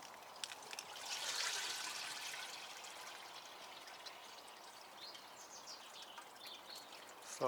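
Water drains from a container in a garden, a faint, continuous trickle with gentle splashing, and birds call softly in the background.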